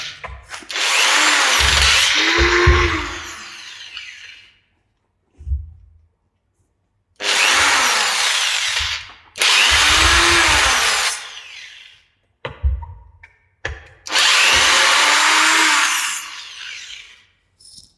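A power tool whirs in loud bursts while unscrewing screws on a 7 kg demolition hammer under repair, four long runs separated by short pauses and brief clicks, close by with no talk.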